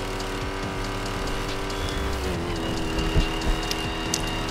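A stolen white SRT Daytona tearing away from police in a video game, engine roaring steadily up close with brief tire squeals and rising bursts near the end.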